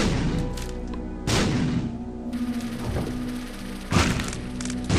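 Bomb from the Epic Fetus item dropping in The Binding of Isaac, a set of heavy booming thuds at about 1.3 s and 4 s with a softer thump near 3 s, over steady game music.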